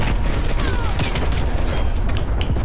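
A flashbang grenade goes off in the first-person shooter Black Ops Cold War amid a dense, loud wash of gunfire and battle noise, with sharp bursts layered over a constant roar.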